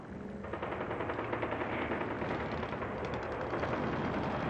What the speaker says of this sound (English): The infantry provide a high volume of small arms fire to suppress enemy handheld anti-tank systems.